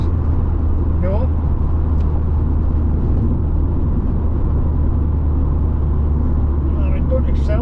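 Mk3 Vauxhall Cavalier engine pulling away in second gear and revving hard, a steady loud drone from inside the car with constant road rumble; someone talks over it.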